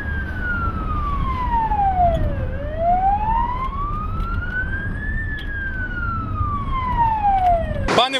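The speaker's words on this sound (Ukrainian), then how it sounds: "їде спецмашина з сиреною, з маячками" An emergency vehicle siren wails on a Ternopil bypass road, close and loud, sweeping down and up in slow cycles with harmonics above, ending with a brief sharp burst; traffic rumble sits underneath.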